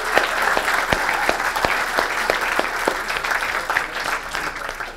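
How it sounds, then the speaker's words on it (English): An audience at a 1 Million Cups community gathering in Springfield claps, with individual claps heard distinctly in a fairly even rhythm that holds steady and eases slightly toward the end. "So a big round of applause and a warm welcome to Philip."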